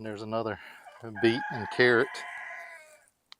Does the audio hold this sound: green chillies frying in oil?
no